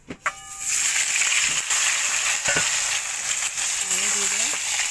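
Potatoes and bay leaves frying in hot oil, a steady broadband sizzle that runs throughout after a brief clatter as they go in, with a faint voice murmuring briefly near the end.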